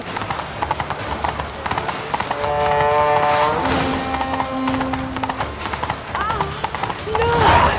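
Horse hooves galloping in a steady clip-clop rhythm in The Witcher 3, running under people talking and a musical score, with a brief whinny-like tone near the end.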